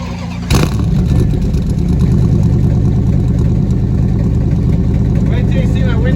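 A 1996 Dodge Ram 2500 pickup engine revs as the throttle is opened, jumping from a quieter idle into a loud, sustained roar close to the microphone, with voices talking over it.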